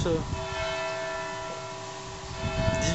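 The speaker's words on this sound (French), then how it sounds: "Là, on entend la cloche, il est 18h30." A church bell rings at a Catholic school, a sustained ringing tone held steadily over background noise, moderately loud and somewhat distant, with faint voices around.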